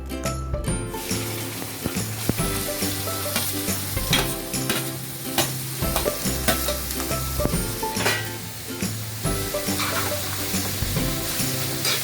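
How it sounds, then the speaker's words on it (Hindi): Bottle gourd pieces hitting hot desi ghee for a sweet halwa, giving a steady close sizzle and fry with frequent clinks and scraping stirs, alone and without voices. "अभी हमारा घी गर्म हो गया है। अब हम इसमें लौकी डालेंगे।"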